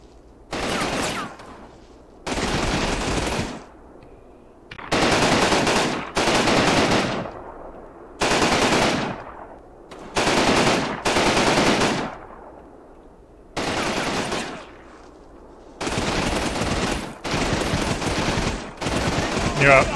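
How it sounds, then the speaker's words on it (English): Machine gun fire in the WWII strategy game Combat Mission Rome to Victory: repeated loud bursts of rapid automatic shots, each lasting a second or so and separated by short pauses, continuing throughout. "now they're getting shot at from several different directions"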